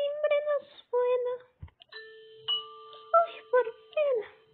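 A two-tone doorbell chimes indoors at a party, its clear ringing tones repeating several times close by with short pauses between them, while a few brief voices come in around it.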